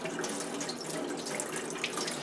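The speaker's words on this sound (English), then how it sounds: "what I'm going to use is a spray attachment here. Turn on the water high" A faucet spray attachment runs at high pressure, water hissing and splashing steadily against an N95 mask in a sink, a constant close, bright rushing sound with no pauses.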